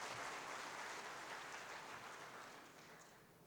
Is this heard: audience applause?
yes